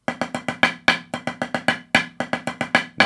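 A snare drum plays paradiddles with the first two notes doubled as diddles, giving quick, crisp, close strokes in repeating groups with clear accents and a brief gap partway through, loud and with no talking.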